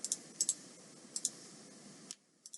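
A computer mouse gives a few sharp, light clicks close by, spaced irregularly over a faint steady hum.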